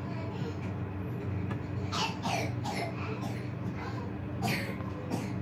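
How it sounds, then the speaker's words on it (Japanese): A child gives a couple of short, soft coughs at a family breakfast at home, spaced a few seconds apart over a low background murmur. "あら、咳してるわ。"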